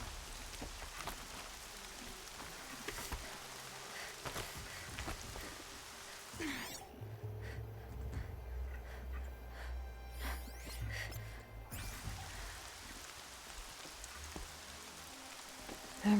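Steady rain falls in the Horizon Zero Dawn video game, a continuous faint hiss of drops with a brief muffled stretch midway.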